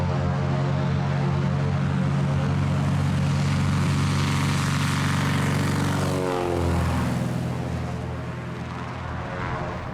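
Small propeller airplane taking off from a backcountry mountain strip between trees, its engine droning loud and steady throughout, with a pitch sweep midway as it passes close by.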